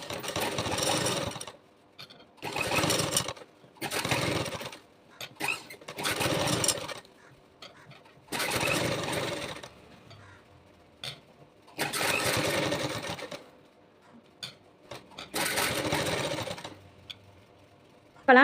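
Sewing machine top-stitching along turned-over fabric, running in repeated loud bursts of a second or two separated by short pauses, close up with no talking.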